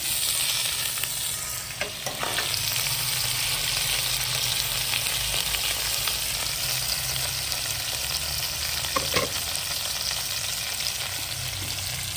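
Potatoes fry on a tava griddle with a continuous close sizzle, broken by occasional scraping and stirring clicks, and no voices throughout.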